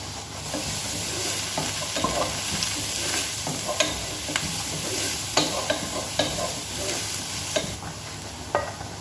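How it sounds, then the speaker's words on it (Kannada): Onion frying with ginger garlic paste in a pan for restaurant-style paneer masala, a continuous sizzle broken by regular spatula scrapes and taps, close and moderate. "ಈರುಳ್ಳಿಯನ್ನು ಸೇರಿಸಿ ಚೆನ್ನಾಗಿ ಫ್ರೈ ಮಾಡ್ಕೋಬೇಕು ಶುಂಠಿ ಬೆಳ್ಳುಳ್ಳಿ ಪೇಸ್ಟ್ ಸೇರಿಸ್ತಿದ್ದೇನೆ"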